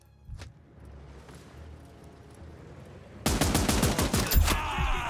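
Gunfire in the video game Last Train Home: after a quiet stretch with a faint thump, a loud, rapid burst of shots erupts and keeps hammering close by until the end.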